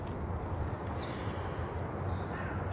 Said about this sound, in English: Get a lovely song from the birds.